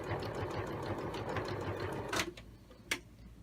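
A sewing machine stitches the sides of a fabric tabard with a fast, even mechanical chatter that runs steadily and then stops, followed by a couple of sharp clicks, close and moderately quiet.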